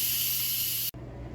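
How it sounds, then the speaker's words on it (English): An Instant Pot vents steam through a quick pressure release, a loud, bright, steady hiss that cuts off abruptly near the end, then a softer residual hiss continues. "let's do a quick release to release the remaining steam"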